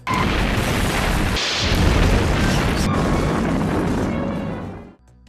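Loud, sustained explosion special effect of the kind used in Gerry Anderson shows such as Thunderbirds, a dense roaring blast that rumbles on for about five seconds before cutting off abruptly.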